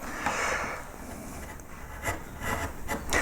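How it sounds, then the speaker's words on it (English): A number 3 wood carving gouge cuts and undercuts the petal of a yellow flag iris pierced relief, giving soft, uneven scraping and shaving strokes close by with brief sharper cuts. "while I've been cutting down here, what I've done is I've actually tilted the gouge back so that I'm undercutting"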